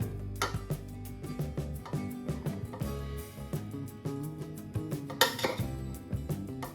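Cooked rice for tamarind rice is scooped into a bowl with repeated scraping clinks of a utensil against metal, a quiet irregular series of taps.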